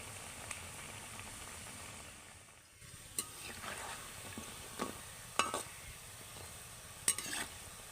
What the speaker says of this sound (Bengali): বাকি গজাগুলো একইভাবে ভেজে নেব